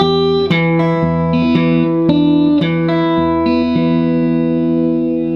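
An electric guitar picks a slow country-blues phrase in a Travis-picking style, single notes and double-stops plucked one after another, ringing with a slightly overdriven tone.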